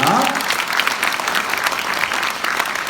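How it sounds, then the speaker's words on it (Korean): Steady, dense applause from an event audience welcoming guests during the Incheon mayor's visit to Gyeyang-gu, filling the hall evenly from start to finish with a brief voice near the beginning. "박수로 환영해 주시기 바랍니다"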